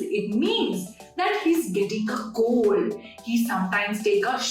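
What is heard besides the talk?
None of the usual background noises is heard.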